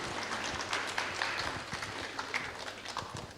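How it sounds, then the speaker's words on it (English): Audience at a university career and internship fair claps quietly after a presentation, a steady patter of scattered hands at a moderate distance for a few seconds. "You gonna clap?"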